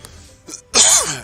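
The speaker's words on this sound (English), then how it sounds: "Should hopefully be the last cough." A man gives a short cough while live-coding at his desk: two small throat bursts followed by one harsher, louder cough, close to the microphone with no talk over it.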